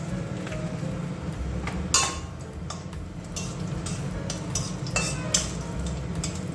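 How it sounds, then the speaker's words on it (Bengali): Bay leaf, dried chilli and garam masala sizzling in hot oil, a steady dense crackle with scattered sharp ticks and a few louder pops, close and continuous without talk. "তেল গরম হয়ে গেছে, আমি একদম তেজপাতা, শুকনো লঙ্কা, গরম মশলা সব কিছু দিয়ে দেব।"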